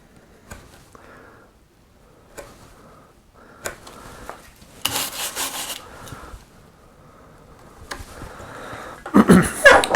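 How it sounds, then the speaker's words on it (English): A fishtail gouge carving a wooden breadboard with a wheat-ear pattern, a series of short scraping cuts and rubbing strokes, close and fairly quiet with brief pauses between them, growing louder toward the end. "you should be able to take this off with this fishtail gouge"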